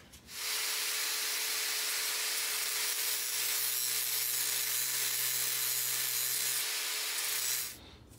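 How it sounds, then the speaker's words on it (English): An angle grinder works the edges of sheet metal tabs for a toolbox build, a loud continuous rasping grind that runs steadily for about seven seconds before cutting off. "I'm going to do that with the angle grinder"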